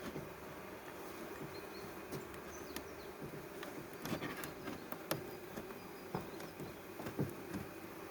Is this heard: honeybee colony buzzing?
yes